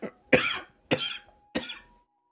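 Three separate coughs, close and fairly loud, evenly spaced over about two seconds, with short silences between them and no talking.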